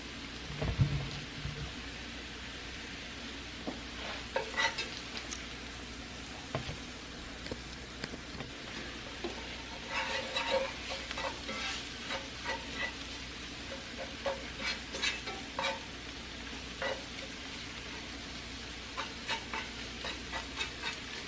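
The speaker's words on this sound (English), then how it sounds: "I'm just letting that flour cook some." Flour cooking in a pan for gravy gives a faint, steady sizzle, broken by soft scraping stirs and small crackles over about twenty seconds, with no talking.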